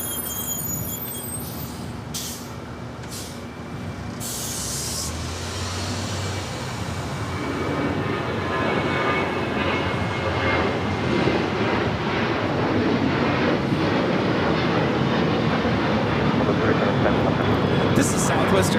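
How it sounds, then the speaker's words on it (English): A Southwest Airlines Boeing 737-800 takes off at LAX bound for Phoenix, its broad jet roar building steadily and holding as a continuous, fairly loud rush. "This is Southwest Airlines 3710 taking off to Phoenix on the 737-800."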